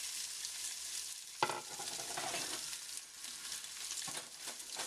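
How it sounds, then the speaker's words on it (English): Sausage sizzles and crackles steadily in a big pan, a dense hiss with a sharp clatter near the start as it is stirred, loud and close with no talking. "you're going to make sure it sizzles"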